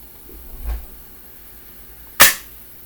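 The slide of an Umarex Walther PPQ air pistol is pulled open, a sharp metallic snap after a soft handling thump, close and brief against near silence.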